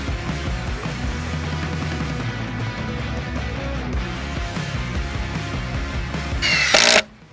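A Milwaukee impact driver sinks Optimax screws into timber with a continuous rattling hammer and motor whine, close and steady. A brief louder burst comes near the end, then it stops.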